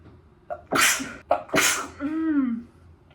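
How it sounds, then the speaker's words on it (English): A close, loud sneeze with sharp breathy bursts, ending in a drawn-out vocal exclamation. "I think I'm gonna sneeze again."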